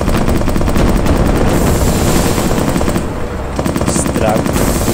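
Sustained rapid gunfire in the aerial combat video game Lonely Ace rattles loudly and continuously throughout, with a brief dip midway, while someone talks over it.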